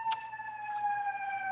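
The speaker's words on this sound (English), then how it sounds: "sorry, there's sirens. I live in the city." Emergency vehicle sirens in a city sound as a steady, faint tonal wail heard from some distance, with a brief click near the start.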